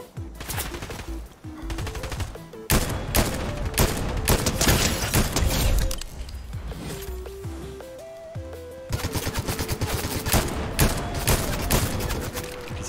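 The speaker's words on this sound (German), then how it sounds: "Oh, Schüsse." Rapid gunfire from the Fortnite video game rattles almost continuously in dense, loud bursts, with heavy volleys and booming shots layered over one another and barely a pause.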